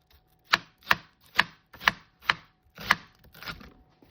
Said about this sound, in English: I like to make some small slices and some big slices.